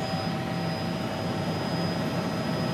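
A French military helicopter flying low over desert cliffs at dawn in the Adrar des Ifoghas, Mali. Its engine and rotors give a continuous, steady roar with no voices.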